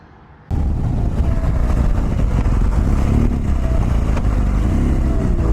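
A motorcycle fitted with Mitas E-07 Plus dual-sport tires cruises on the highway at around 80, its engine and road roar loud and steady after an abrupt start, with strong wind rumble.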